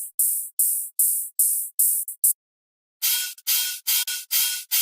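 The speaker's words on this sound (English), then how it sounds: "I made this little hi-hat, little white noise hi-hat that's also on the ones" A white noise hi-hat sample in electronic music plays as bright, crisp bursts in a steady rhythm, pauses briefly, then returns with a choppier pattern of hits.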